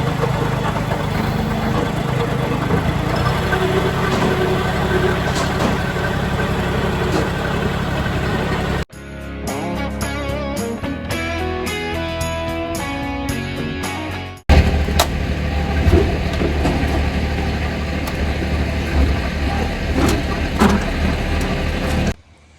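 Cabover truck doing burnouts, with a loud, steady engine roar and heavy rumble that drops out into a different, quieter passage midway before the engine noise returns at full strength.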